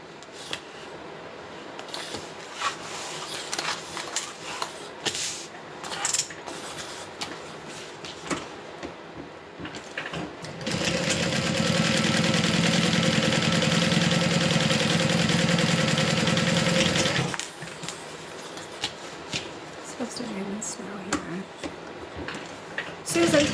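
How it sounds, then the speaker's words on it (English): A sewing machine runs a steady top stitch along a bag for several seconds in the middle, a close, even mechanical whir, with quieter handling noises and speech before and after. "so that we can do a top stitch"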